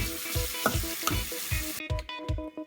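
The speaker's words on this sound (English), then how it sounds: "With a sponge, wash the inside and the outside of the bowl, the funnel, and the filter for about 1 minute each" A sponge scrubs the glass bowl, funnel and filter of a Bodum Santos coffee maker in a hot, soapy sink: quick, even, rhythmic wet strokes, close and steady, over a watery hiss that drops away partway through.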